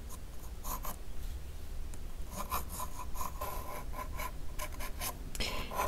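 Pencil sketching simple, loose lines on paper ahead of a watercolour tree painting: soft, close scratchy strokes in short bursts with brief pauses, no voices.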